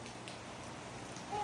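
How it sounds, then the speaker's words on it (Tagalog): Steady rain from a typhoon falls on a small garden, a dense, even hiss of drops lasting the whole moment with no voices. "Tuloy-tuloy pa rin naman yung ulan"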